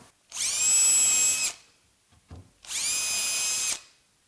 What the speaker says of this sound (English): a pilot drill